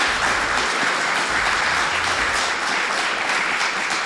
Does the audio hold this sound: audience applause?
yes